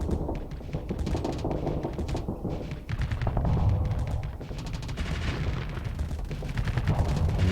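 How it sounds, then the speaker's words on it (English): A dense, continuous barrage of missile and weapon fire rattles and booms through a Starsector space battle running the Nexerelin mod, with overlapping rapid shots and no pauses. "It's a lot of missiles."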